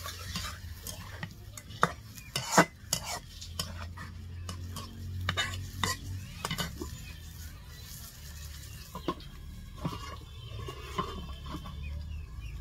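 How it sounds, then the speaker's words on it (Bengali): Fish sautéed in a pan over a village kitchen fire, with a quiet, steady sizzle broken by repeated scraping and clattering strokes of a utensil against the pan. "আমি দেখাই দিচ্ছি মাছটা একটু কষায় নিয়ে"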